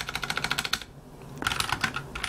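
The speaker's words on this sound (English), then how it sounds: "I need to get used to this keyboard again." Quick, steady typing on a computer keyboard, close and fairly loud, with a short pause in the middle before the keystrokes resume.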